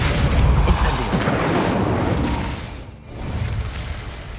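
Incendio fire spell cast in a Harry Potter video game: a loud, booming burst of flame with a deep rumble that holds for a couple of seconds, dips briefly, then swells again.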